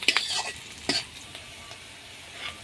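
Onions and chillies sizzle and spit in very hot leftover fish-frying oil, with a couple of sharp bursts of crackle early on before settling into a steady, moderately close fry.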